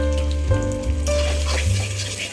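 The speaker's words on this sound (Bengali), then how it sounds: "এবার ডিমটা ভালো করে ভুজিয়া মতো করে নেবে" Beaten egg seasoned with salt being scrambled and fried in a pan for fried rice, with a steady close sizzle and the occasional scrape or stir of a utensil.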